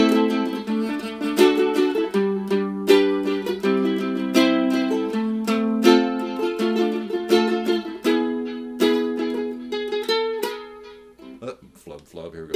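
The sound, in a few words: ukulele lick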